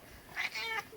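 A single meow from a hard-of-hearing cat, drawn out with a rising then wavering pitch, close by over a quiet background.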